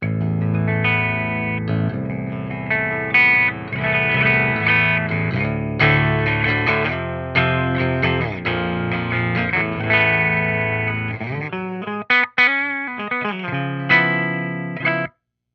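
Electric guitar strummed and picked through the clean channel of a Peavey-based amp, full chords ringing with a bit of shimmer, steady and fairly loud with a brief pause near the end.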